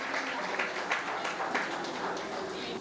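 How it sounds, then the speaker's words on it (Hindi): An audience at a Hindi comic poetry recital claps, a moderate steady patter of many hands with a few sharper individual claps, heard at a slight distance with no words over it. "समझ में आ गई हो तो ताली बजा।"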